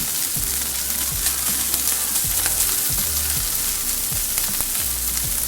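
Ground beef frying in a pan for cheesy mac and cheese, a loud continuous sizzle with scraping stirring strokes recurring every second or so.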